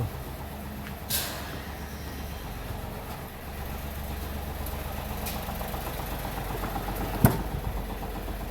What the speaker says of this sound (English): I have started the engine.